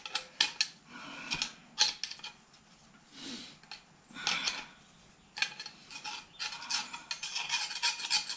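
Irregular scraping and rasping of metal being rubbed clean, in short uneven strokes with pauses, close and moderately quiet: cleaning the seal seating surface on the final drive of a David Brown 996 tractor after brake drum removal.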